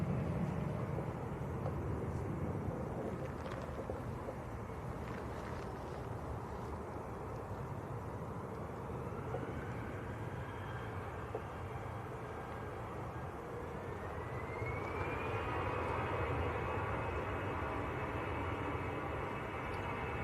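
An Aer Lingus Airbus A320 departs Manchester Airport, a faint, distant jet rumble with a thin engine whine that climbs in pitch as the engines spool up for takeoff.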